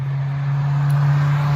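Cars on a busy highway beside a hiking trail pass in a continuous low roar, swelling slightly as traffic nears, with no voices.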